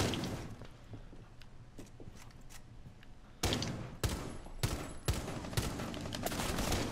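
Gunfire in the video game Rainbow Six, with scattered quiet shots early and then louder sharp bursts from about three and a half seconds, fairly distant and irregular, with no talk.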